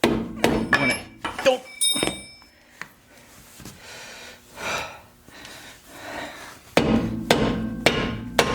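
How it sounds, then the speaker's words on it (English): Hammer or mallet striking the rear brake drum of a 2011 Ford Fiesta to free it: sharp metallic knocks in bursts at the start and end, with a ringing clank, quieter shuffling and breathing between. "Now you can use a hammer or a mallet"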